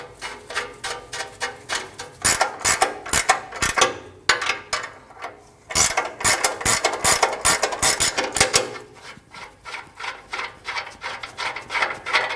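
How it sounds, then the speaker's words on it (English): A thread-cleaning tool scrapes and ratchets inside the O2 sensor port on a 2012-2021 Nissan NV2500 with a 5.6L V8, giving a close, steady run of rapid raspy clicks and rubbing strokes with brief pauses. "I like to use a tool like this that cleans out O2 sensor threads"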